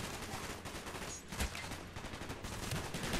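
Gunfire in Call of Duty: Black Ops, a dense stretch of rapid shots and bursts that crack over a loud, busy game background with no pause.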